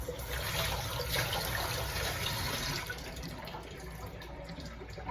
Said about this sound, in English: I wash them with hot water